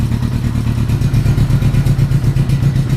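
A Honda CB motorcycle engine runs with the choke on, a loud, close, steady chugging idle with rapid pulsing thumps and some mechanical clatter, no voices over it.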